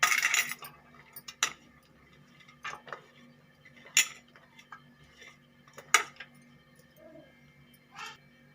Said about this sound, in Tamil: இப்போ நம்ம ஆனியன் இதில் மாவில் போட்டு மிக்ஸ் பண்ணிக்கலாம்.